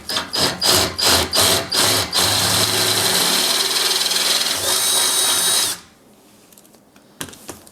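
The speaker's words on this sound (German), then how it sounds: "ich habe hier jetzt also einen 8er Bohrer eingespannt und jetzt einfach nochmal das Loch ein bisschen weiten." Power drill with an 8 mm bit widening a hole in a sim-racing pedal plate reinforcement, starting in several short pulsed bursts, then running steadily for a few seconds before stopping, leaving near silence with a few small clicks.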